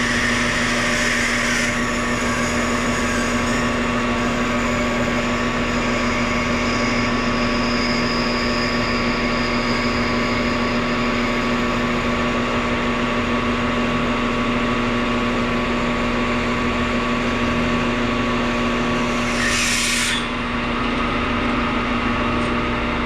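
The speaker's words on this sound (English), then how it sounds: "I'm going to drill them 7/16, and this will give us a little leeway so that we can bore them out" A 7/16 drill bores into brass bushings on a metal lathe, a steady machine hum with a constant tone running throughout and a brief sharper change near the end, with no talking.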